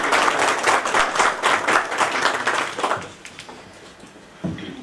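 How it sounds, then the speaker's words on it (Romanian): Audience applause at a prefectural council meeting in Vâlcea, Romania, a loud burst of clapping from a room of people that fades after about three seconds, followed by a brief thump. "dar de data asta chiar se poate aplauda."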